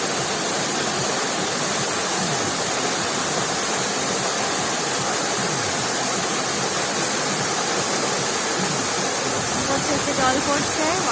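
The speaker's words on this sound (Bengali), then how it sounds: "আমরা এখন মৃদুগন্ধা ওয়াটারফল দেখতে এসেছি।" Mridugandha waterfall at Daringbadi, Odisha, a loud constant rush of falling water that fills the whole scene without pause, with a faint voice near the end.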